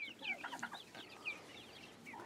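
Quick bursts of clucking and squawking come from Lavender Splash grow-out birds, three roosters and one hen, close by and busy at first, then thinning out.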